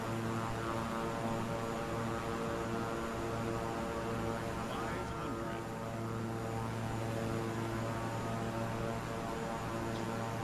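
Steady propeller plane engine drone from Microsoft Flight Simulator on approach to Saba, a constant harmonic hum with a slight dip near the middle, loud and alone.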